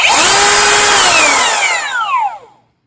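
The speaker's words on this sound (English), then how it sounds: "push in, and you notice it starts and stops pretty quick" A RIDGID Gen5x 18V cordless palm router revs up close and loud to a high steady whine, then quickly winds down, its pitch falling until it stops and goes quiet.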